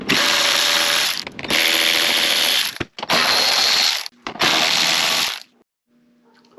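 A ratchet turns out the small T25 Torx screws on top of an Audi Q5 2.0T engine during a lower timing cover oil leak repair. Four loud, close bursts of rapid clicking are separated by short pauses, then a quiet tail.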